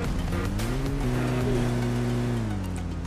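A car in a battle royale video game drives off, its engine note rising and holding steady with a smooth, continuous hum that lingers close throughout.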